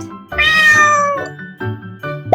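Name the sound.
cat meowing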